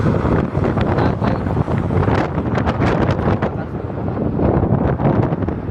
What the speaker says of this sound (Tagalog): Mas malakas pa yung hangin.